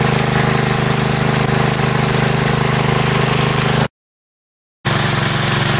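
An engine drives an irrigation well water pump that floods rice fields, running loud and steady at high revs with a constant droning hum, cut off by a brief gap before it resumes unchanged.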